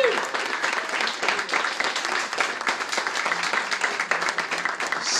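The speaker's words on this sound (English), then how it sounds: "Give them a big round of applause." An audience applauds continuously at a kickoff event, a dense wash of many hands clapping at steady volume from start to finish.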